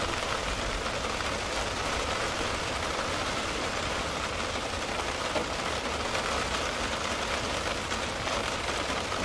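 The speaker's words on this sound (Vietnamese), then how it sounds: "Mưa đến hơi bất ngờ." Steady rain pours down over a natural river during carp fishing, a dense, unbroken hiss that holds at a constant loud level throughout with no voices.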